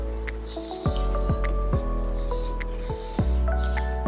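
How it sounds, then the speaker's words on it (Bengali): A spoon scrapes and stirs an eggplant and chhana curry in a pan over low heat, with soft squishing, wet clicking and several distinct scraping strokes, close up and without speech. "আমি কিন্তু এটাকে অল্প আঁচে রান্না করতে থাকবো নাড়তে থাকবো"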